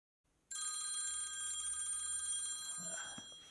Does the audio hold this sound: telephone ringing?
yes